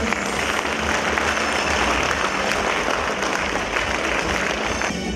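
Sustained, dense applause from a crowd thanking volunteers at an Armed Forces Day ceremony in Zviahel, Ukraine, loud and even throughout with no voices standing out.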